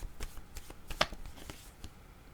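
Tarot cards are shuffled and drawn, with quiet, close papery flicks and taps in an uneven rhythm and one sharper snap in the middle, and no talking.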